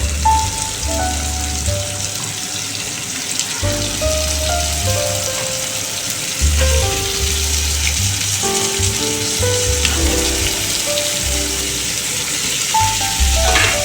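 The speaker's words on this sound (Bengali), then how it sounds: "পেঁয়াজ আর তার সঙ্গে আমি আলুটাও দিয়ে দেবো, একসঙ্গে ভাজা করব।" Onion and potato fry together in a pan, giving a continuous loud crackling sizzle, close by and steady, with a few faint clinks and no talk.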